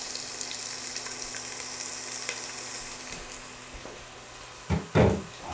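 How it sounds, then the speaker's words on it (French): Onion sautéing in a pan for a Portuguese potato soup, a steady hiss of frying throughout that ends in a couple of louder scraping stirs near the end, with no voices. "On va commencer par faire revenir l'oignon."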